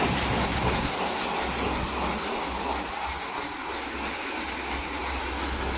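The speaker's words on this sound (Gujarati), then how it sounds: "આ છે આપણું જો મગફળી ફોલવાનું મશીન" A tractor-driven peanut threshing machine runs on a farm, shelling G22 groundnuts, giving a steady loud mechanical rumble and rattle that drones on without pause.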